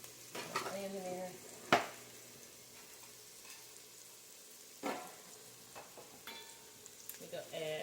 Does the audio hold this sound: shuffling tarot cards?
no